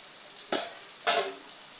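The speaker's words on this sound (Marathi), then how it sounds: "फक्त तुम्हाला तेलामध्ये चांगलं परतायचं आहे" Onion and curry leaves frying in hot oil in a pan, two sharp sizzling bursts as ingredients are stirred, each fading into a soft crackle.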